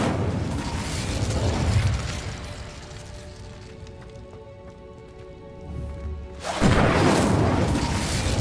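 An Incendio fire spell cast in Hogwarts Legacy roars up as a loud rushing whoosh of flame, fades into a quieter humming pause, then flares again with another burst of crackling fire near the end.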